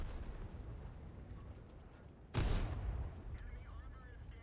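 A single loud tank cannon shot from a T54 in World of Tanks booms out, sharp and heavy, against quiet battlefield ambience.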